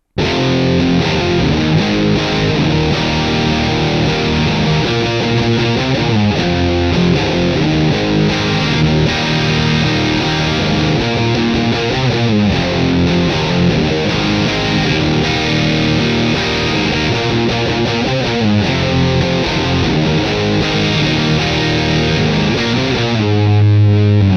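Heavily distorted electric guitar riffing on a song through a Marshall JMP-1 rack preamp, continuous for about twenty-four seconds, thick, loud and saturated, with no voices.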